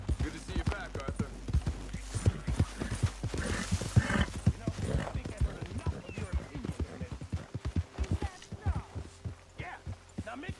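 Horse hooves clip-clop in a steady, rhythmic trot through most of the stretch in Red Dead Redemption 2, fairly close, with a low hum beneath and a brief neigh.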